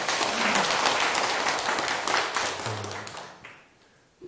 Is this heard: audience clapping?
yes